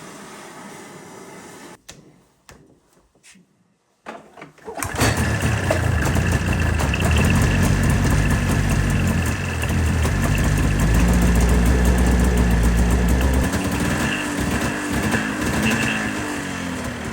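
A snowmobile with a fuel pump fault starts after a few quiet seconds and a brief cranking, then runs loud and steady close by with a rough, vibrating idle.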